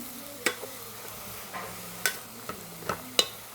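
Green gram is tipped into a pan of banana flower thoran and stirred, producing a handful of distinct scraping taps from the spatula over a soft, faint sizzle, with no talking.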